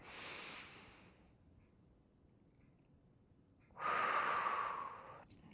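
Two distinct breaths during a Pilates breathing exercise, a soft airy inhale at the start, then after a quiet pause a louder, longer breathy exhale with a faint whistling edge, close to the ear.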